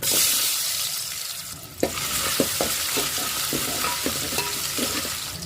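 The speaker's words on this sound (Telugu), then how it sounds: "ఆలుగడ్డ కట్ చేసి పెట్టుకున్నాను అది వేసుకుంటున్నాను" Cut potato pieces dropped into hot oil with mustard seeds, cumin, chana dal and urad dal, sizzling steadily while a spoon scrapes and stirs the pan in repeated close clinks.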